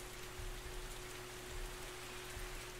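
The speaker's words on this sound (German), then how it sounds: "Es regnet, es regnet." Steady rain patters down in the medieval colony game Norland, a dense, even hiss of drops with no voices over it.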